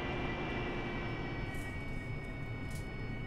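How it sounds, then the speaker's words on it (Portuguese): An AV-8B Harrier in the DCS flight game runs at high thrust for a vertical takeoff, a steady jet roar and whine that stays even throughout, with no one speaking. "VTO, decolagem vertical."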